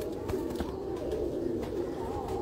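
Heera Laal breed pigeons coo softly, low rolling calls repeating over a steady background hum, fairly faint and with no talking.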